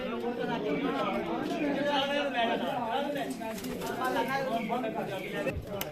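Champion racing pigeons coo in a steady, murmuring chorus close by, with people talking over the birds throughout.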